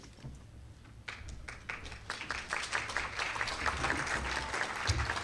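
Applause from an audience at a medical talk on delirium, starting as a few scattered claps and swelling into steady, dense clapping that continues to the end.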